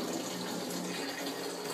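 RO-filtered water pours steadily into a 32-gallon plastic trash can, a soft continuous rushing splash at low level.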